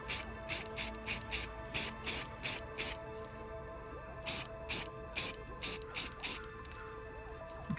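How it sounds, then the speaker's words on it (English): Short hissing spray bursts, about eight in quick succession then a pause and several more, fairly close, over a faint mechanical background. "Let me show you real quick what this aerosol can do to it."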